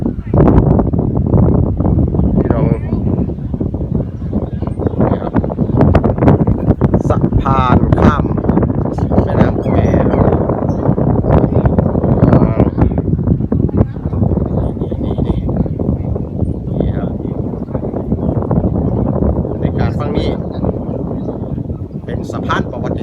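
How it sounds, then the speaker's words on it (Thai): Dry wind gusting across the microphone at the bridge over the Khwae River in Kanchanaburi, a constant loud rumbling buffet with someone talking over it. "ลมแห้งพี่น้อง"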